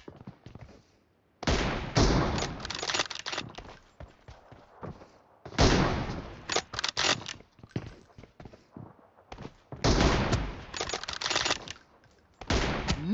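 Bursts of gunfire from an M24 sniper rifle in a PUBG Mobile team deathmatch come in rapid clusters separated by short quiet gaps, loud and close.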